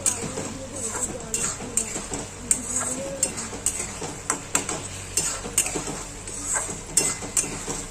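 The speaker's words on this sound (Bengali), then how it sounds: "এই যে নাড়াচাড়া মানে ডালটাকে কষছি আমি।" Moong dal is stirred and sautéed in a pan, with repeated scraping and clinking of a spoon against metal at an irregular rhythm over a low sizzle and faint background voices.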